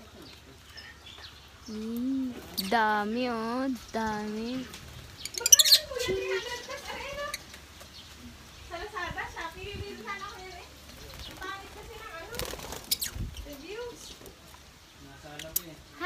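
Pet birds kept at a home in the Philippines chirp and call in bright, repeated bursts close by, with people talking over and between the calls.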